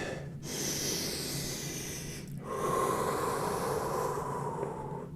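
A person takes slow, deep breaths during a hip flexor stretching drill, two long airy inhales and exhales, close and fairly quiet, with no speech.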